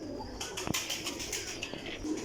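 Pigeons coo softly from a loft of breeding pairs, with low throaty calls and a brief wing flutter near the middle, fairly close and quiet.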